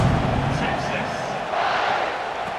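A stadium crowd in the football game College Football 26 gives off a steady, broad murmur of many voices that swells slightly at one point, with a commentator talking over it.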